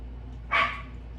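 A single dog bark, short and moderately loud, rising once over a steady low background hum with nothing else around it.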